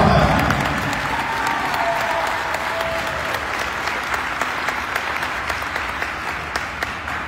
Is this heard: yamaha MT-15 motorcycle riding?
no